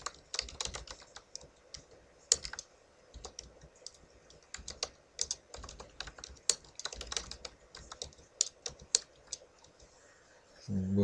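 Typing on a computer keyboard, heard as quiet, irregular bursts of close key clicks and taps, with short pauses between runs and no talk.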